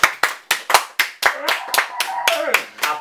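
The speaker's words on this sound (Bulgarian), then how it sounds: "Публиката да пляска!" A studio audience at a comedy TV show claps in sharp, close, rhythmic slaps, about three per second, while a voice talks over the later claps.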